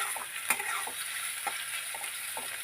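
Chopped onions frying in a pan with a bright, continuous close sizzle, punctuated by several light clicks and scrapes of stirring.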